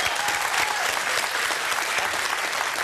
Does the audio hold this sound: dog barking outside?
no